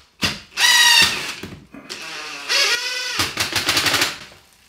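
A power drill drives screws to tighten a wall bracket for an LG OLED 65 G2 TV, several close, loud whirring bursts of rising pitch with short pauses between, no talking.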